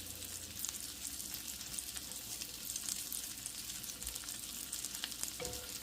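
Garlic frying in a pan for an Italian garlic chicken dish, a steady close hiss and crackle of sizzling oil running throughout with no talking.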